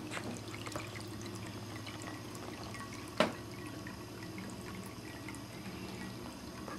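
Water flows in a ceramic cat fountain shaped like a green leaf, making a faint, steady trickle and bubble throughout, with one brief sharp tap partway through.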